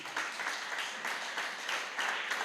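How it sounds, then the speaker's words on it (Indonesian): Congregation applause during a church worship service, a steady wash of many hands clapping at moderate distance, fairly soft and continuous with slight swells. "Tepuk tangan buat Tuhan Yesus."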